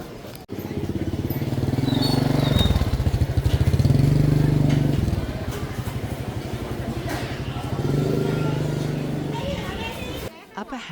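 Motorbikes rumble past at a Vietnamese market, with engine drones swelling and fading in several passes amid market bustle and nearby voices.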